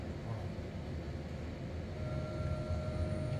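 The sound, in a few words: search helicopter over the sea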